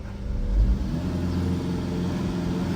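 A Tata 2.2 diesel pickup engine, a newer 150 model with its check-engine light on and trouble revving, holds a steady mid-range rev for a few seconds as a close, continuous rumbling drone.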